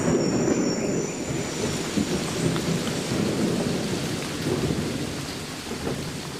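A heavy downpour soaks a Costa Rican rainforest at Corcovado as thunder rumbles under it. The hiss of dense rain on leaves stays loud and steady all through, with low rolling thunder swelling and fading in the background.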